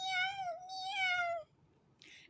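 A cat in SAKURA School Simulator meows twice in quick succession, clear and close, with a short high electronic chirp following after a pause.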